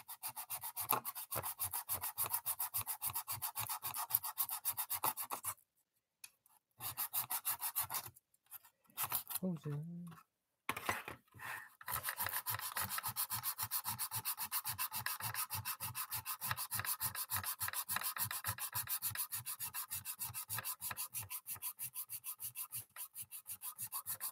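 Steady hand sanding of a wooden project with sandpaper, a rhythmic back-and-forth rubbing scratch with a few short pauses partway through, close and continuous.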